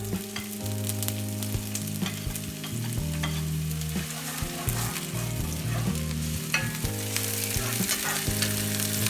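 Onions sautéing in oil in a pan, a continuous soft sizzle with occasional stirring, heard under steady background music.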